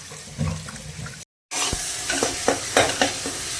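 Stirring potato and soybean in a sizzling frying pan, with repeated scraping strokes of a spoon against the pan over a steady hiss, after a short silent gap.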